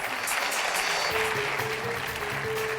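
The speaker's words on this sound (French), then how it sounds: "on peut l'applaudir très très fort" Studio audience applauding a contestant on a French television game show, a steady dense wash of clapping throughout, fairly loud and continuous, with a faint tone and music-like hum underneath in the second half.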